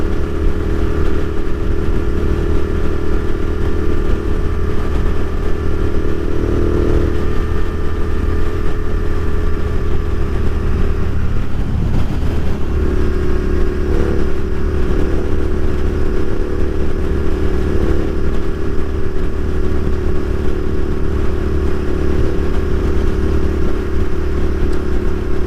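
A Royal Enfield Continental GT650 twin motorcycle climbs a hill with a loud, steady engine drone and wind rush, the pitch dipping briefly midway before settling back into a constant pull.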